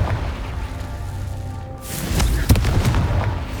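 A Confringo explosive spell blast from the Hogwarts Legacy video game: a whooshing launch, then a sharp, loud burst near the middle, with a rumbling low tail that holds steady to the end.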